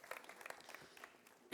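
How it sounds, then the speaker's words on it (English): A church congregation at a Sunday teaching gives a round of applause. The clapping is faint and distant, a light scattered patter with a few sharper claps, and ends in a short louder bump. "Do we give these guys a round of applause?"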